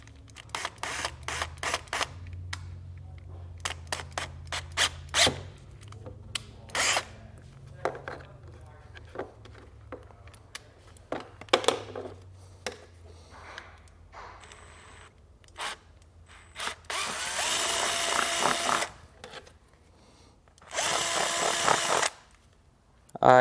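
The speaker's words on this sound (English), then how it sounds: "drill this out here" A power drill fitted with a 10mm bit bores a hole while installing a trailer brake controller kit, with short bursts of whirring and a couple of longer sustained runs near the end, broken up by clicks and handling noises.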